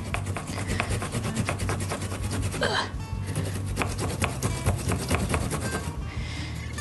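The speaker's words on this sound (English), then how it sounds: "I'm just gonna grate this on my ginger grater" Fresh ginger rubbed across a ginger grater, a steady rapid rasping scrape that continues without pause, close and fairly loud, with no talking.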